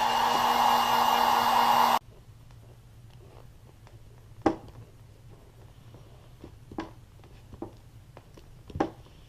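A heat gun blows hot air onto a custom sole protector on an Air Jordan VI sneaker, a loud steady whooshing hum lasting about two seconds before switching off, followed by quiet scattered taps and handling noises.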